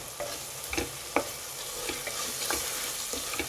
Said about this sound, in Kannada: ಎಲ್ಲ ಚೆನ್ನಾಗಿ ಫ್ರೈ ಮಾಡ್ಕೊಳ್ಳಿ